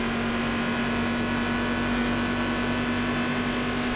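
Race car engine heard from the cockpit in the iRacing sim during a GTC race at Interlagos, a steady loud droning hum holding one pitch throughout with no talk.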